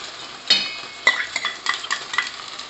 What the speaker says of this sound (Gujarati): ડાર્ક સોયા સોસ એડ કરી અને આ રીતે ફટાફટ ગેસની ફ્લેમ ફાસ્ટ રાખી બધું મિક્સ કરી દઈશું